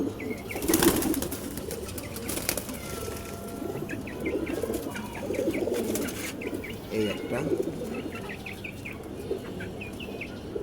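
Several pigeons coo repeatedly at close range, with bursts of wing flapping and scuffling among them, while a person talks briefly over the birds.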